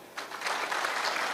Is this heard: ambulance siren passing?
no